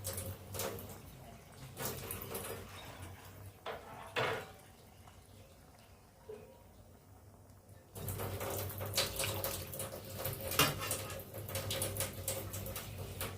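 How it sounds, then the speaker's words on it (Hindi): Water is poured into a pot of chickpea curry while it cooks, producing bursts of splashing and pouring, a quieter stretch in the middle, then steady running water again. "हम उसमें जो है पानी मिलाएंगे"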